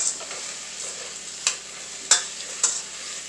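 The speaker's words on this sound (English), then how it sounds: "just stir them around." Potatoes sizzle in a pot for lentil, beef and bacon soup, a soft steady frying hiss broken by three or four sharp scraping stirs of a utensil.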